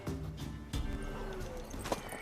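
Horse hooves and a whinny in The Witcher 3, a mare's clopping steps and neighing heard close up over a busy background, with a voice speaking briefly.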